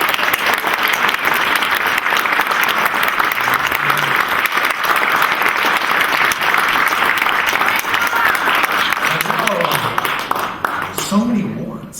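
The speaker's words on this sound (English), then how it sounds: "Round of applause" A crowd gives a warm round of applause welcoming a guest on stage, a loud sustained wash of clapping that tapers near the end as a voice begins to speak.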